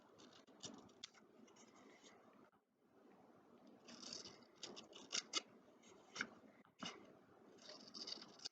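Scissors cutting paper in a quiet room, a series of soft, close snips and rustling cuts with brief pauses between them.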